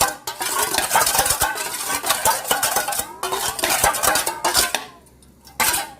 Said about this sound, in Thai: ละลายน้ำตาลนะคะเนี่ย